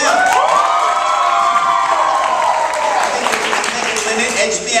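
A crowd roars for a contestant at a live competition, with loud cheering, high whooping voices and clapping sustained from start to end, easing slightly toward the close.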